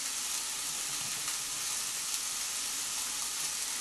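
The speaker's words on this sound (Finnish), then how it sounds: "Sipulin kuulottelua pannulla hetken." Onions sauté in a frying pan with a steady, even sizzle that holds at a moderate level from start to finish and has no voices over it.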